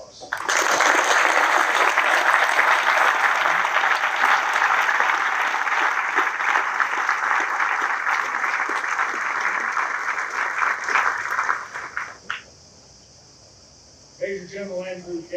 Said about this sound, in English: please join me in an incredible soldier in the round of applause